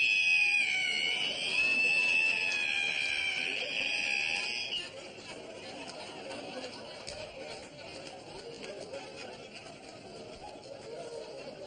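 A voice imitates a squeaky ironing board opening with a long high-pitched screech, then quieter background chatter and movement follow.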